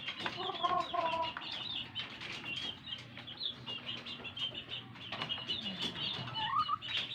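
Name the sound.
backyard breeding hens clucking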